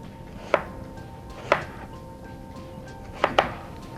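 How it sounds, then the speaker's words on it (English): A knife chopping onion on a cutting board gives three or four sharp, separate thuds spaced over a few seconds, up close against a quiet kitchen background. "We're going to chop up some onion"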